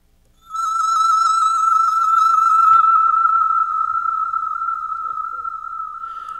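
A sustained electronic tone processed through tremolo and reverb pedals, with a slow wavering pulse, rich in overtones, fading gradually into an echoing tail.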